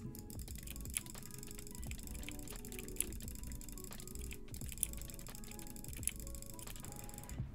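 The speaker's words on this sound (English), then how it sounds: "Oh, I was jitter clicking too" Fast, continuous mouse jitter clicking on a computer mouse, a dense stream of close, sharp ticks with a few louder clicks standing out, no voices.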